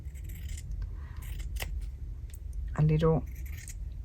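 Scissors cut through a piece of linen with one short, crisp snipping burst, close by, amid light handling noise and brief talk.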